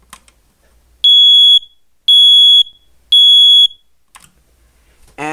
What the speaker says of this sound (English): on the ceiling, I have another SA303 by First Alert. See? We'll go ahead and test it.